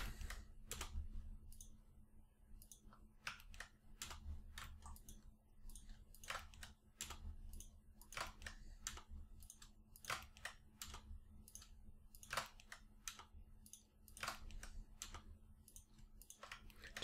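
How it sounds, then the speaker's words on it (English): Computer keyboard keys tapped in a steady run of quiet clicks, the same hotkey command entered over and over, close and faint with a low hum underneath and no talking. "Enjoy the free keyboard ASMR at this point."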